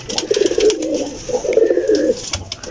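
Pigeons coo close by in two rolling, throaty phrases, with soft background chatter and clicks around them.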